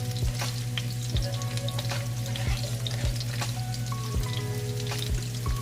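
Onions frying in a pan for a pompano fish steak dish, a loud, steady close sizzle with periodic soft stirring knocks.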